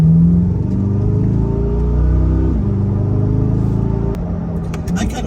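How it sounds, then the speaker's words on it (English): A Ferrari 458 fitted with a small-block Chevy engine drives along, giving a steady, loud low engine drone with shifting tones, easing off near the end while people talk in the cabin. "This is a 458 with a small block Chevy in the back."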